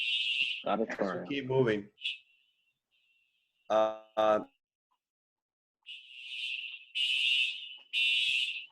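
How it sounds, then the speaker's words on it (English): A building fire alarm rings in a school setting, its loud, steady electronic tone sounding in long repeated bursts that alternate with stretches of a person talking nearby. "and a fire alarm"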